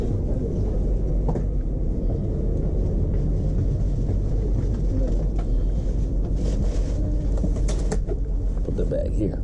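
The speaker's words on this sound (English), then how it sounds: "I just got in the train." Steady low rumble and rushing hiss inside a moving high-speed train in the Philippines, a constant dense roar with faint clicks and rattles throughout and no clear speech.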